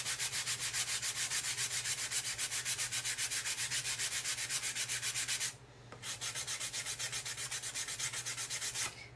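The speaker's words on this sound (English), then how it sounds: "I'm going to sand the back of this a little bit" Hand sanding on the back of a painted wooden fence peeker: steady, fast back-and-forth rubbing strokes, close and continuous, with a brief pause partway through before the scraping resumes.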